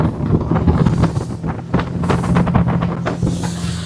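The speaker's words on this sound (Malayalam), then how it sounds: "അല്ലെങ്കിലും സ്പീഡ് ബോട്ടിന് സ്പീഡ് വേണമല്ലോ" A speedboat roars steadily as it speeds along Punnamada Lake, with wind buffeting the microphone and water rushing past the hull.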